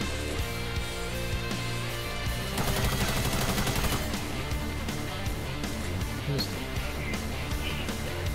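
Rapid bursts of gunfire in a combat video game, dense repeated shots over a steady bed of game music and effects, loud and close throughout.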